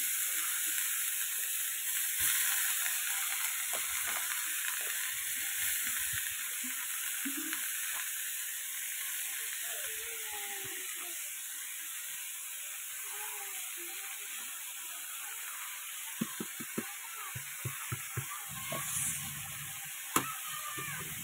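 Ash gourd fries in a pan with green chillies, no spices added: a soft steady sizzle and hiss, with intermittent stirring clicks and scrapes close by.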